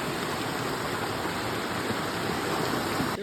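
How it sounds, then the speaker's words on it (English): A fast-running creek swollen after heavy rain rushes in a steady, dense broadband roar, continuous and fairly close with no voices. "I can hear the creek running like crazy"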